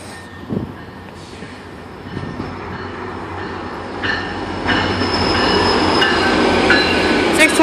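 A GO Train commuter train slowing to a stop at a station, with rumbling wheels on rails that grow louder and denser, clanks and high metallic squeals, and wind noise close by.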